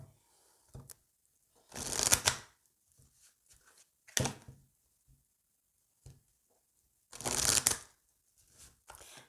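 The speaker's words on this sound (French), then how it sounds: "je vais mélanger une première fois" Oracle cards being shuffled by hand in several separate bursts, close and fairly quiet, with near silence between the riffles.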